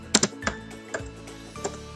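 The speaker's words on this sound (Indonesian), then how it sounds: "kita ketika membuat daftar isi kita mengetik satu-satu daftar isi" A few quick keystrokes sound on a computer keyboard, faint, irregular clicks in a short burst, close and quiet.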